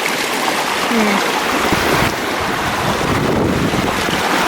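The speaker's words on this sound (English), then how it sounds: "Made it to the waterfall." A waterfall on a mountain hike roars with a loud, constant broadband rush, heavy wind buffeting the microphone throughout, close and with no clear talk.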